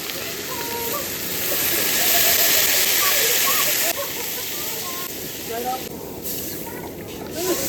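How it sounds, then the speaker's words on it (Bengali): Water poured into a pan of cooking potatoes, cauliflower and peas, a steady rushing splash and sizzle that swells then settles into bubbling, with a voice speaking over it. "এবার ফুলকপিটা দিয়ে দেবো এবার কষানো হয়ে গেছে এবার জল দিয়ে দেবো"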